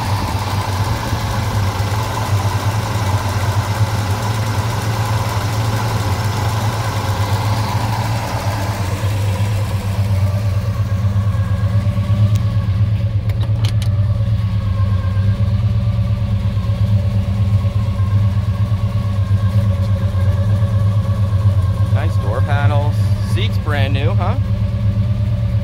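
A 1963 Pontiac LeMans convertible's 350 V8 idles steadily up close, a loud continuous low rumble that holds throughout while people talk quietly nearby.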